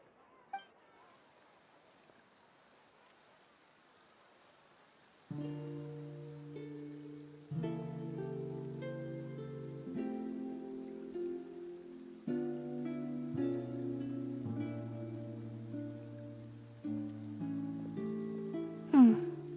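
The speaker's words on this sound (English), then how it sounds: "Looks like rain." Rain falls steadily in Fontaine in the video game Genshin Impact, a soft, even patter that is heard alone at first and then continues faintly beneath music.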